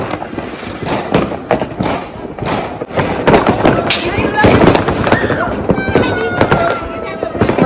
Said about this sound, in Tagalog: Konti lang na paputok ngayon.